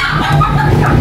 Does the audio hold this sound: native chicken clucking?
yes